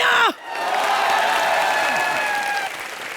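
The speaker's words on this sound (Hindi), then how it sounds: "जोरदार तालियां" Studio audience at a live comedy television show breaks into loud, sustained applause mixed with some cheering and whoops, steady for several seconds after a brief dip at the start, with a voice heard faintly at the outset.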